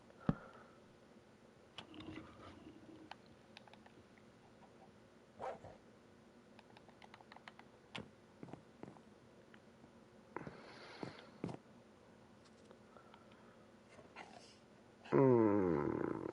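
A dog in Minecraft barks and yips in a few short, scattered bursts at moderate distance, with quiet game ambience between them and a louder clattering burst near the end.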